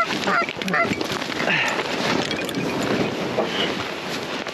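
Geese honk loudly and repeatedly over a steady outdoor rush of wind or background noise.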